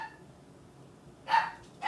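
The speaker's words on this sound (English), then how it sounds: "stop barking" A pet dog at home gives two short barks near the end, the first fairly loud and the second cut off, after a quiet stretch of room tone.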